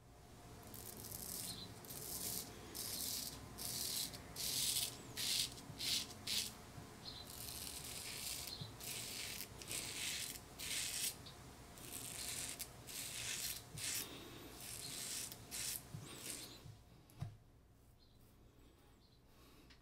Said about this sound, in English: That's a pretty good shave on the first pass.